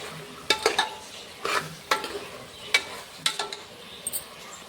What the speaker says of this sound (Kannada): ಸ್ವಲ್ಪ ಪಲಾವ್ ಮಸಾಲ ಹಾಕ್ಕೊಂಡು ಇವಾಗ ನೀಟಾಗಿ ತಿರುಗಂಬ್ರಿ